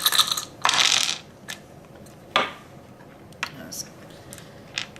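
Four dice clatter and tumble across a tabletop during a board game, with a sharp burst of rattling followed by scattered lighter clicks as they settle.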